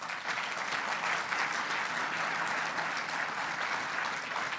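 Steady, dense applause from a town-hall audience for British Columbia Premier John Horgan, even in loudness and unbroken for several seconds with no voices on top.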